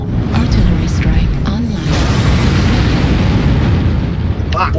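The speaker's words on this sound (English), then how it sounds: "Artillery strike online." Artillery strike explosions in a mech combat video game boom and rumble continuously and loudly, a dense heavy barrage with brief voice fragments under the noise.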